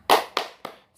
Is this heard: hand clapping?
yes